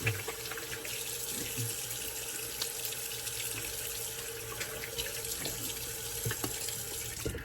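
Cold water runs steadily from a bathroom tap into a sink during a shaving cleanup, a continuous broadband splashing hiss at close range with no speech over it.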